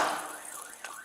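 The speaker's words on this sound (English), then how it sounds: "Your alarm's going off!" Home burglar alarm sounding outdoors during a police response at a house, a harsh steady electronic wail heard from a distance with faint background noise.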